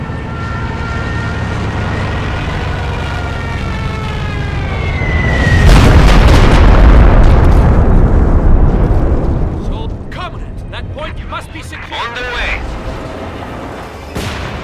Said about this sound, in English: Stuka bomber incoming! Clear the central plaza!